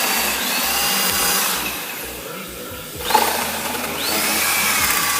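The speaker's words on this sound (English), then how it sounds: "We'll drill this thing on through." A power drill whines and grinds through metal on a naval cannon in uneven bursts, pausing briefly before starting up again, loud and close.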